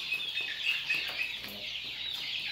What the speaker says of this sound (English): And got some chickens in here.